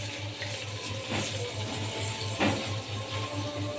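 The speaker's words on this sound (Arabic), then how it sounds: "الميه تغلي" A pot of water heats toward a boil on the stove, giving a steady close hiss and bubbling wash over a low hum, with a slight swell midway.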